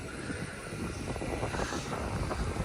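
Airplane engine roar at an airport, a steady broadband rumble with a hiss filling the whole stretch, fairly distant and continuous, no talk over it.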